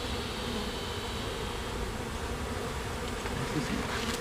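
Honeybees in an opened beehive make a dense, steady buzzing that fills the whole stretch, loud and close, with no talk over it.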